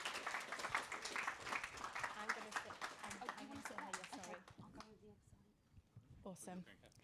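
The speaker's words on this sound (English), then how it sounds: "can I have a huge round of applause for our panelists" An audience at a business conference breaks into loud, sustained clapping for a panel of speakers. The applause is dense at first, then thins and fades as voices come in.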